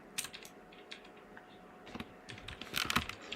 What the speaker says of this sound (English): going to try to make it so you guys can't hear the keyboard as much